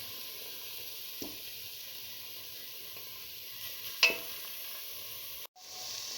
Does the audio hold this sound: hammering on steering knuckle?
no